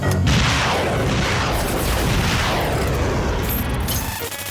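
Weapons open fire in a Space: 1999 audio drama, a dense barrage of heavy booming blasts that rolls on continuously and loudly for several seconds with no speech over it.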